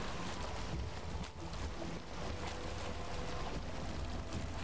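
A Viking boat sails across the sea in Valheim, with a steady wash of wind and waves rushing around the hull, continuous and fairly quiet, with no voices.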